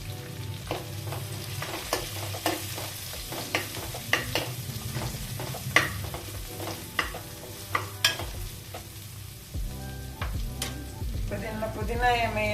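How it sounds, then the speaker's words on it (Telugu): Ginger garlic paste and green chillies fry in a pan for jeera rice, a steady low sizzle running throughout with scattered sharp clicks and scrapes of stirring, fairly close and moderately loud, with no voices. "అల్లం వెల్లుల్లి పేస్ట్ పచ్చివాసన పోయే వరకు ఫ్రై చేసుకుందామండి"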